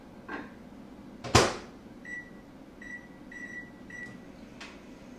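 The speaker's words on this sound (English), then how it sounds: "I'm going to put this in the microwave the first time on about a minute and a half or 2 minutes." A microwave oven runs in a home kitchen, a door thump and clatter followed by a series of short keypad beeps, with a soft steady hum underneath.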